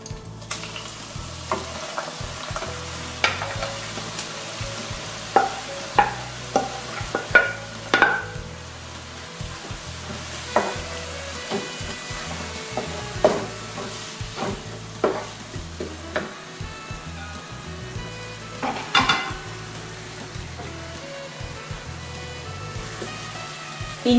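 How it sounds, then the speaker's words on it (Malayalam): Sliced onions sizzle steadily in hot oil for a Thalassery-style chicken biryani, with frequent scraping and stirring knocks from a spoon against the pan, close and continuous with no talking. "എണ്ണ ചൂടായി കഴിയുമ്പോൾ അതിലേക്ക് നമുക്ക് സവോള ഇട്ട് കൊടുക്കാം"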